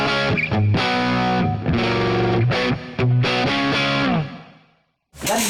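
Electric guitar played through the clean channel of a Friedman Runt 20 amp pushed into crunchy distortion, loud chords and short riffs with brief pauses, ending in a decaying ring and a silent gap before another strum.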